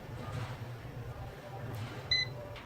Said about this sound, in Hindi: यहाँ पे देखें, बीप की आवाज भी आ रही है और रीडिंग भी शो हो रही है।